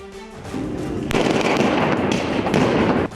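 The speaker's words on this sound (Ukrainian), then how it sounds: "Постріли та вибухи під ратушею так відтворювали бої періоду зунер." Gunshots and explosions under a town hall during a reenactment of historical battles: sharp loud cracks and booms follow one another in quick succession, with a dense crackling roar between them and no voices.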